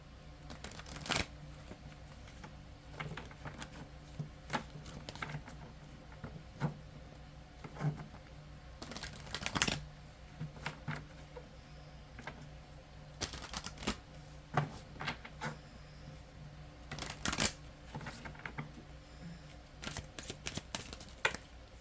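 Native spirit oracle cards are shuffled by hand in a quiet room, giving soft, irregular riffling and tapping bursts close up over about twenty seconds.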